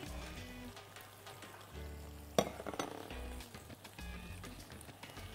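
Bacon or pastrami frying and crisping in a pan as it is stirred and turned, a soft steady sizzle with a sharper clatter partway through, quiet and with no talking.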